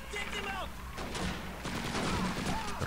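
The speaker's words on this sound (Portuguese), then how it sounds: "Que é um tiro e um flash," Gunfire in a first-person shooter game, bursts of shots and flash effects over game sounds at moderate volume, with a few voice-like game noises mixed in.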